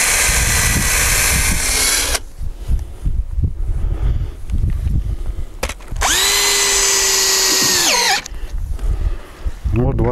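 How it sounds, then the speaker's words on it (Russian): A power screwdriver drives self-tapping screws into wooden garden-bed posts in a shade house, with two loud whirring bursts, one at the start and a longer one later. Handling noises come between them. "А теперь можно прикручивать."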